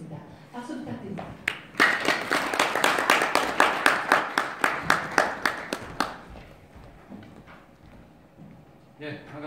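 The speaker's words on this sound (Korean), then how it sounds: "박수 부탁드립니다." An audience applauds at a startup conference held in the National Assembly members' office building in Seoul: sharp, rhythmic synchronized clapping in even beats for about four seconds, preceded and followed by quieter room sound.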